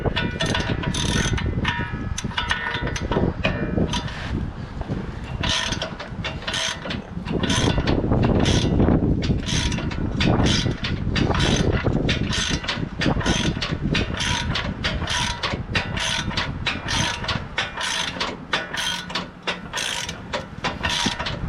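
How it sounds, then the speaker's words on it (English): Ratchet wrench loosening a bolt on the upper control arm of a 2009 Ram 1500 2WD pickup, a loud continuous rapid clicking of the pawl, close by and without speech. "we can switch over to our ratchet"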